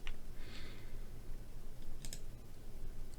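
Computer mouse clicks during a web search on a trademark database, a few faint, sharp clicks spaced apart over quiet room hiss.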